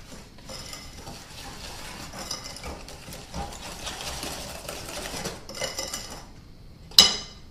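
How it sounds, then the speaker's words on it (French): Eggs and sugar being whisked by hand in a salad bowl for a yogurt, apple and almond cake, a steady busy scraping rattle running throughout, close and moderate, ending in a sharp clink against the bowl. "j'ai cassé mes œufs dans mon saladier, je vais y ajouter mes deux sucres"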